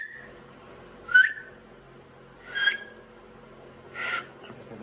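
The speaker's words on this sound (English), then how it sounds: "I always whistled with my fingers." Three sharp, shrill whistle blasts spaced a second or so apart, each brief, over quiet background noise.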